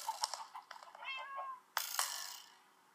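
A cat in Minecraft meows twice in quick succession, a drawn-out call followed by a sharper cry, close and clear against a quiet background.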